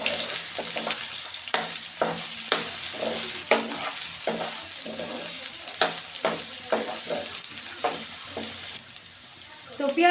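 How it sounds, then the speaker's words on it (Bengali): Onions and bay leaves fry in a pan over raised heat for a spiced pigeon bhuna, giving a steady close sizzle broken by repeated clattering stirs. "এখন আমি পেঁয়াজগুলো আর তেজপাতাগুলো একটু ভেজে নিব।"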